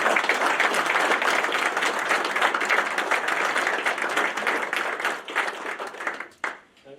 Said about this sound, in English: let's give a round of applause to all of our panelists up here for their time.